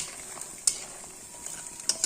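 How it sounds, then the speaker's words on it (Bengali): Bori lentil dumplings frying in a pan, a soft steady sizzle close by with a few sharp little pops and clicks scattered through. "দেখো বন্ধুরা, আমি বড়িটা ভাজা করে নিচ্ছি।"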